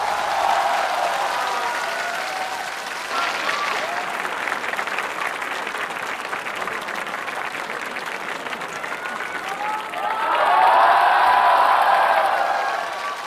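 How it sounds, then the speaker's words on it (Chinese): A studio audience at a televised singing competition claps and cheers in a sustained, dense round of applause that dips briefly and then swells louder near the end. "掌声有请下一位竞演歌手。"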